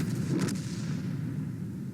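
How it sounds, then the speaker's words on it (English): A single muffled boom of artillery fire in the World of Tanks game, faint and distant, with a soft rumbling tail that fades over about two seconds. "Artillery just killed one of our teammates."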